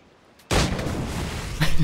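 A sudden loud explosion booms behind the character in the video game Assassin's Creed: Black Flag, a sharp blast followed by a rumbling tail and a second thud.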